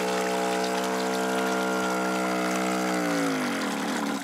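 A cordless robotic pool cleaner for a stock tank pool is lifted out of the water, its pump motor humming steadily with water streaming and splashing off it, the tone sliding down as the motor winds down near the end.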